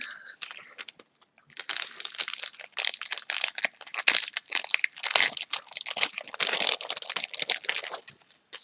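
A parcel is torn open and its paper crinkles and crunches in close, irregular bursts that start after a short pause and carry on to the end, with a faint voice now and then.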